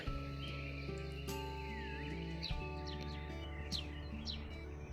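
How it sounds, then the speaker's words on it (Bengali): Birds chirp and call near a tree beside a house, bright repeated tweets sitting over a steady low hum, with no talking. "দেখি এই কাকটা সামনের গাছটা থেকে উড়ে এসে হাজির"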